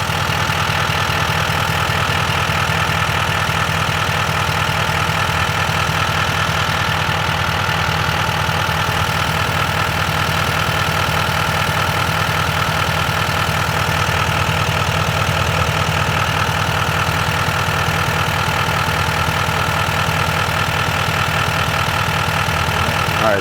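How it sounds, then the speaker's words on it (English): A car engine idles steadily under a constant mechanical hum while the A/C system is being charged, with the compressor clutch expected to engage; the drone stays even and close throughout, with no voices. "now you should definitely hear the clutch kicking in soon"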